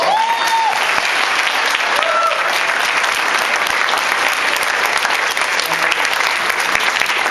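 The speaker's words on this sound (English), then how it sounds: "So please give him a round of applause." A welcome reception audience gives a loud, dense round of applause, continuous clapping from many people at close range for the whole stretch, with a few voices and short tones faintly mixed in.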